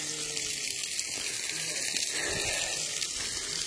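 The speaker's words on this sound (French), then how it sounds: "Cascade permanente." A permanent waterfall beside a dangerous mountain road near La Paz, Bolivia, heard as steady, close, broadband rushing water with no pauses.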